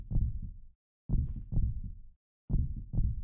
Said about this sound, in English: Oh, that's a heartbeat.